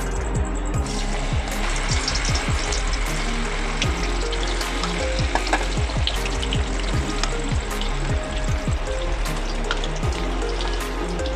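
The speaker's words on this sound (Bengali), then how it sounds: "তেলটা গরম হয়ে গেছে, এবার সয়াবিনগুলোকে ভেজে নেব।" Soybean chunks frying in hot oil in a home kitchen, a loud, continuous close sizzle with rapid crackling pops throughout and no voices.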